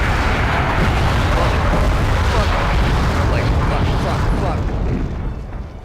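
Mortar explosions in the real-time strategy game Wargame Airland Battle, a dense, continuous roar of loud booms and blasts merging into a rumbling barrage that fades slightly toward the end.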